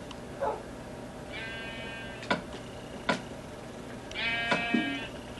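Sheep in Minecraft bleat in short wavering calls twice, set against faint background noise and a few sharp clicks or taps in between.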